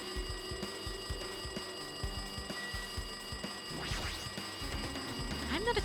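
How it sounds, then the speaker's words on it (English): A ringing telephone in the video game Danganronpa 2 gives rapid repeated electronic rings over background music, with a few sweeping game sound effects near the end. "It looks like that phone is ringing."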